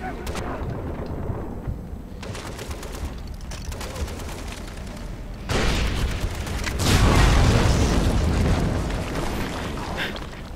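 A heavy weapon fires in the video game Far Cry 3, with dense rumbling booms and explosions that swell louder midway and keep going as a continuous barrage.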